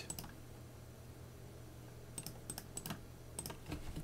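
Quiet, close keyboard typing of a sudo apt update command on an Ubuntu Linux computer: a couple of taps, a pause, then a short run of crisp keystrokes with a low steady hum underneath.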